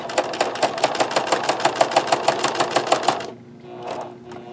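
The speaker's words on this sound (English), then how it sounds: "we're going to sew all the way around" A sewing machine runs in a fast, even burst of needle strokes for about three seconds, stitching a label onto a denim notebook cover, then stops, leaving a quieter low mechanical hum.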